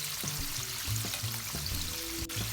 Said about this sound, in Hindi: अभी 5 मिनट इसको और देंगे हल्की आंच पे, ताकि अंदर तक ये अच्छे से फ्राई हो जाए